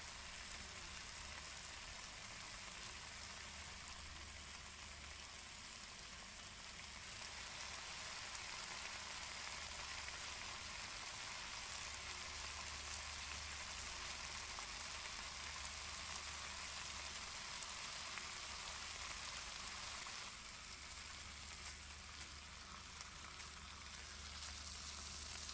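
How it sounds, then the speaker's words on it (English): A burger sizzles steadily in a frying pan in the cooking game Cooking Simulator, a continuous hissing fry with no talking over it. "All right, we're frying it up."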